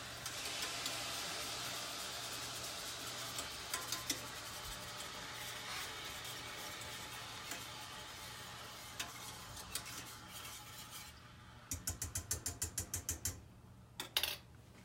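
Pickled egg brine heating in a pot on the stove gives a steady hiss and simmer throughout, with a close, rapid run of clinking or rattling bursts near the end.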